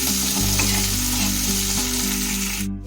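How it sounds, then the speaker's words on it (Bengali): Chopped onion and tomato frying in oil in a pan, a loud, steady close-up sizzle that continues without pause, with no voices over it. "দিয়ে ভালো করে একটু ভাজা ভাজা মতো করে নেব পেঁয়াজ আর টমেটোটাকে।"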